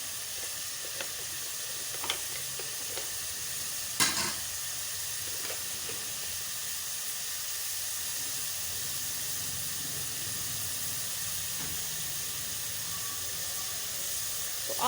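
Chicken frying in ghee as garlic and ginger-garlic paste go into the pan, giving a steady close sizzle and hiss throughout, broken by a few brief clinks and scrapes, with no talking.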